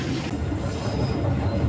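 Interior of the KA Bukit Serelo economy-class passenger train running on rails between Lubuklinggau and Prabumulih: a steady, loud low rumble with rolling wheel noise and a faint high squeal, continuous throughout with no talk.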